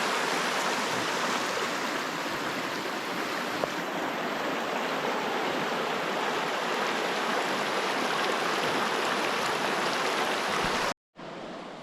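A rain shower sweeps over a riverside free campsite at the Mann River on Old Grafton Road, a broad continuous wash of falling water that stays steady and close before cutting off abruptly near the end.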